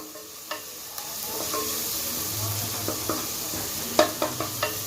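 Ginger garlic paste sautéing with onions in a pan, a soft continuous sizzle close up, punctuated by several sharp spatula taps and scrapes, a cluster of them near the end.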